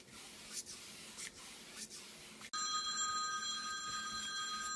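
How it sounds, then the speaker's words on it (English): A telephone rings in a room where someone is painting a beach scene, its bright ringing tones starting partway through and continuing steadily to the end at moderate loudness, with no talking. "phone's ringing"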